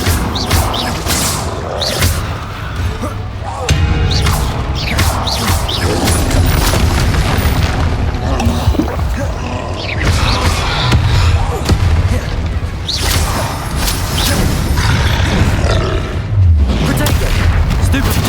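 Bombarda blasting spells explode in the Hogwarts Legacy video game, repeated heavy booms and crashes amid continuous combat noise and game music.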